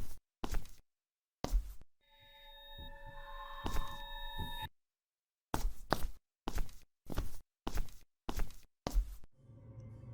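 Footsteps in the horror video game Seven Nights, a steady run of sharp, close steps broken by a long stretch of eerie tonal ringing, with soft thuds and a faint hum at the end.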